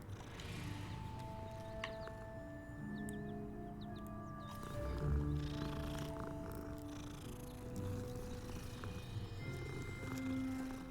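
A cat purring steadily while being petted in Hogwarts Legacy, a continuous soft rumble under game ambience and music with no talk.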